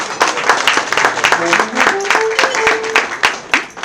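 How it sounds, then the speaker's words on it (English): Loud audience applause at a celebration honouring former Nigerian President Olusegun Obasanjo, dense clapping with voices and a short sung or called tone rising through the middle, then fading at the end. "Please, a resounding round of applause for Baba."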